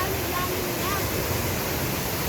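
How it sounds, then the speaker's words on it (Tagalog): Steady broadband rush of a waterfall at Mt. Maarat in San Mateo, Rizal, a constant close roar of falling water with no breaks. "Ito yung mga falls dito. Dalawang falls na to."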